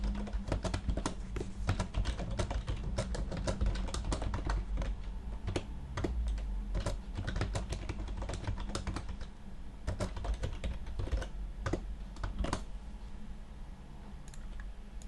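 Code being typed on a computer keyboard while writing F# for Hadoop, a quiet run of rapid uneven key clicks that continues steadily throughout, close and without speech.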